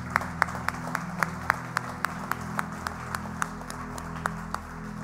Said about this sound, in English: I want to applaud you guys.